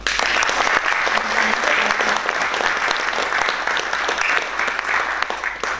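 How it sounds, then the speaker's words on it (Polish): Steady, full applause fills a hall from an audience at a memorial event for a poet, sustained and even with no voices standing out. "Proszę jeszcze raz o brawa."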